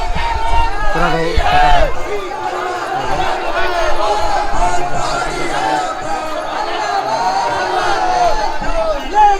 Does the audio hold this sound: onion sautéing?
no